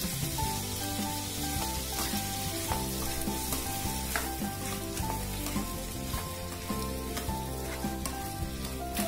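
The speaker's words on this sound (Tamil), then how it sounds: "நல்லா வதங்கட்டும் தக்காளியோட ஜூஸ் நல்லா வத்தணும்" Tomatoes sautéing in a pan for tomato chutney: a loud, unbroken sizzle that stays close and steady throughout, with a faint tonal hum running beneath it.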